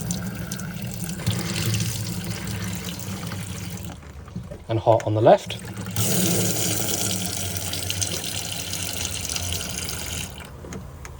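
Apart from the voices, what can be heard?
water running from campervan sink tap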